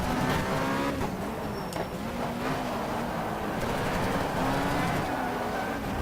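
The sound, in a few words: race car engine and tires from the video game GTR 2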